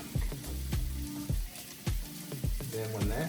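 Onions and green peppers sauté in a pan for a beef stew, a steady sizzle broken by a series of rhythmic stirring or scraping knocks, close and fairly quiet, with no voices.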